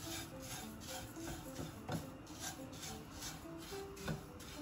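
Millet poha (flattened rice) is stirred as it crisps in a hot pan, giving a soft, continuous scraping and rustling with a few slightly sharper scrapes, close and fairly quiet.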